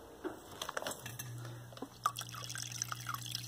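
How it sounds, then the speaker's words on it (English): A small water pump in an automatic plant watering system switches on and runs as a faint, steady low hum. Quiet clicks and drip-like ticks sound over it. "So there's the water pump running."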